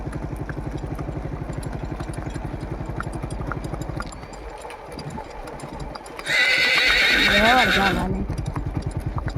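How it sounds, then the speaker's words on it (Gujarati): A mare at a farm walks with a steady, even clip-clop of hooves, then lets out a loud, drawn-out whinny after a short pause. "ઘોડી હકારી રહ્યા છે જો."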